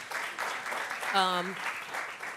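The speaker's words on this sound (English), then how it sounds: "Please clap it up for the Virgin Islands." A crowd claps steadily throughout, with a brief whoop or cheer rising over the applause midway.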